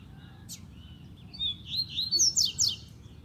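A caged double-collared seedeater (coleiro) sings a run of quick, bright chirps and trills, starting with a faint note and building to a louder, near burst of rapid phrases over a low background rumble.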